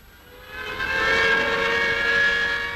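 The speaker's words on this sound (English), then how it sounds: "sirens announce the end of a working shift in the valley" A steady siren wail rises and holds, fairly distant and moderately loud, with no talking: a shift siren at the Bhakra Dam construction site in a valley.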